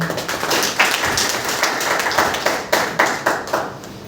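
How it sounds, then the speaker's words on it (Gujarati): A group at a hotel meeting applauds, with many hands clapping steadily and loudly in rhythmic bursts, no one talking over it. "સૌ પ્રથમ સર માટે જોરદાર તાળી"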